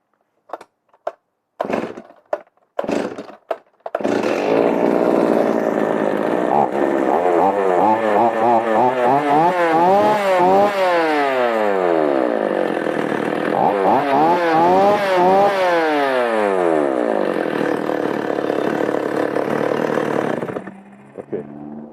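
A second-hand chainsaw is cranked with several sharp pulls, then catches and runs loudly and close by, its engine revving up and down repeatedly before cutting off.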